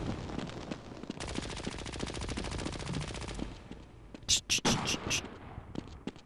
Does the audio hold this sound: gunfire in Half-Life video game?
yes